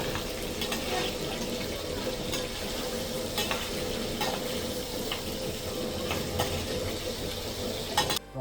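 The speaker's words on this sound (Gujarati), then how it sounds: "આપણે પેલા પનીર ને તળી નાખશું" Paneer pieces fry in hot oil with a dense, even sizzle throughout, broken by a few light clicks from stirring, close and with no voices.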